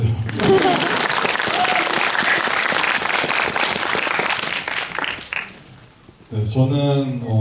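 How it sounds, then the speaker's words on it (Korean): Audience applause fills a cinema after a film screening, dense steady clapping from a crowd that fades out, followed by a voice speaking. "박수 쳐주세요."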